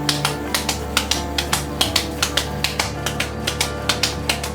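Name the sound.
slapping a raw hamburger patty between hands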